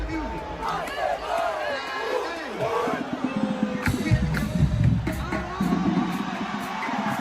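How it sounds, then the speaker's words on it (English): Crowd cheering and yelling at a drumline battle of the bands between MDFS and VSU, a dense hubbub of shouts and whoops with bursts of percussion and nearby voices talking over it. "You hear the crowd?"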